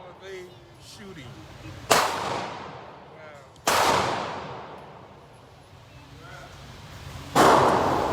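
Three loud single gunshots at an outdoor shooting range, widely spaced with sharp cracks that ring and decay, over a quiet background with faint distant talk.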